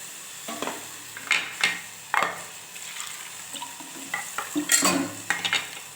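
A spoon scrapes and stirs through thick curry in a pan in short irregular strokes, with a soft simmering sizzle underneath; no talking.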